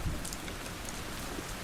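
Soft, steady rain pattering outdoors, a continuous gentle wash with no voices, part of a calm rainy ambience with occasional thunder.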